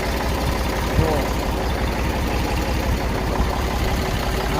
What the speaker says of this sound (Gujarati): તો મિત્રો ટ્રેક્ટર આપણે આવી ગયું છે.